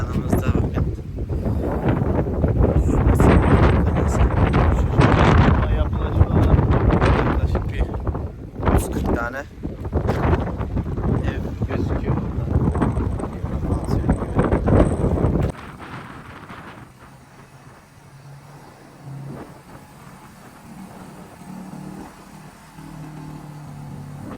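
Strong wind on a Sea of Marmara island trip buffets the microphone in loud, roaring gusts, then drops sharply to a quieter rumble with faint background noise.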